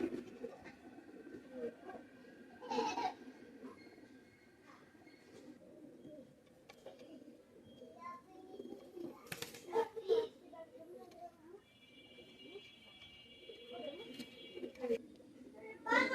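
Soft coos of Pakistani Teddy pigeons come and go in the background while a person talks nearby, with occasional rustling and handling noises.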